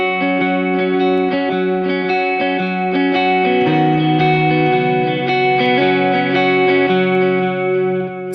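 An electric guitar with a driven, chorused effects tone picks through sustained chords in a 6/8 feel, each note repeating in an eighth-note delay with light reverb, loud and continuous with no talking.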